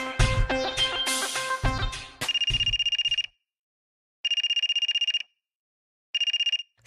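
A telephone ringing on an outgoing call, heard after a burst of background music: three bursts of electronic trilling ring, each about a second long, separated by silent pauses.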